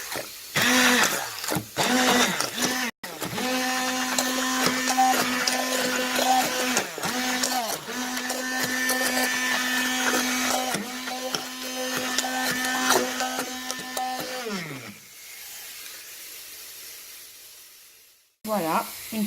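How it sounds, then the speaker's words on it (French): A kitchen blender whirs steadily through harira soup for about fifteen seconds, a loud, even motor drone that shifts in pitch as the blades churn, then cuts off abruptly and leaves near silence. "je la passe au mixeur."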